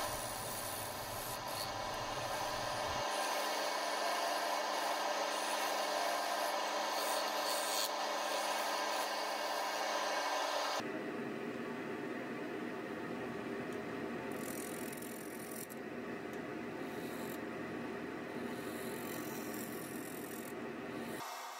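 A woodturning lathe spins a wooden skull blank while a tool trues up its bottom and sides, giving a continuous close scraping, rasping hiss that shifts in tone midway, with no talking.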